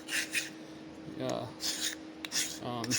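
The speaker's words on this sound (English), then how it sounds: "you get the edge filed and it looks a lot better" Hand file rasping along an aluminum bracket edge in short strokes, a few bursts of scraping close by, with a low voice-like murmur between strokes.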